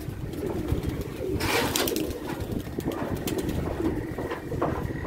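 Caged pigeons cooing in a loft, soft repeated coos and rustling over steady low background noise, with no talk.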